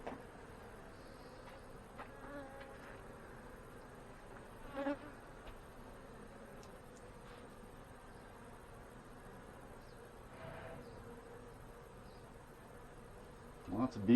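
Honey bees buzz steadily around an opened hive during an inspection, a soft, continuous droning hum with a few louder passes close by.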